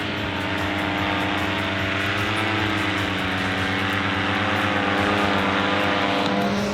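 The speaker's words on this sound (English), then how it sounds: "There's a couple paramotors." Paramotor engines flying overhead outdoors, a continuous droning propeller buzz that holds steady and fairly loud for the whole stretch, with no talk.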